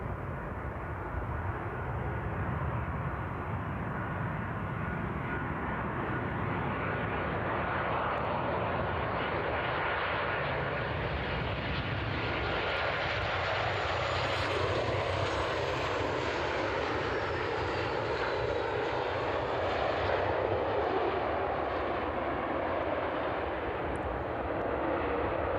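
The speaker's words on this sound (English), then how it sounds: "A rapid touchdown from the Ryanair. Bit of a squeal from the tyres." A Ryanair airliner touches down at East Midlands Airport in the evening, its jet engines roaring loudly and steadily throughout. Any tyre squeal stays buried in the engine noise.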